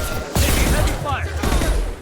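Heavy gunfire from a Mass Effect 2 firefight, a dense, loud fusillade of overlapping shots and booms that rages almost continuously, briefly dips, then surges again, with a voice calling out in the mix.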